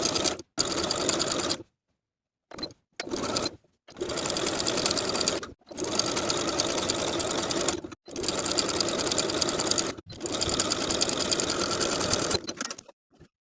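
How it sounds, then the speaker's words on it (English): A sewing machine stitches a neckband onto a T-shirt with a half-inch seam allowance, running in several steady bursts of a few seconds each, separated by brief pauses, loud and close with no talking. "Then I'll sew the neckband in place with a 1/2 inch seam allowance."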